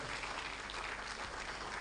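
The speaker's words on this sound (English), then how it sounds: "Please give yourself a round of applause as well." A brief burst of steady clapping from a conference audience at a closing ceremony, fairly distant and muffled, with no voices standing out.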